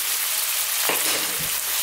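Beef pieces brown in a hot pan for a Kerala-style beef curry, producing a loud, continuous close-up sizzle with a brief stirring scrape midway.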